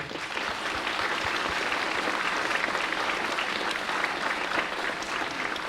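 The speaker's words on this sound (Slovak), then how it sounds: "aj za to im patrí potlesk" Sustained applause from an audience at a charity benefit event, steady and dense throughout without a break.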